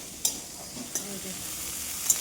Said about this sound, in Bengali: চিংড়ি মাছটা ভাজা হয়ে গেলে নামিয়ে নিই।